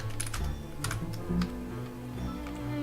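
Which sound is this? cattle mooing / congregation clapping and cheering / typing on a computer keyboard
typing on a computer keyboard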